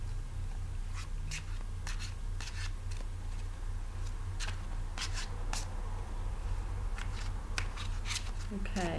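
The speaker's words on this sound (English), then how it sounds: "I'm just going to shuffle the cards." Tarot cards riffle and snap in short, quick bursts close by, repeated several times over a steady low background hum.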